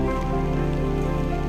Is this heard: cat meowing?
no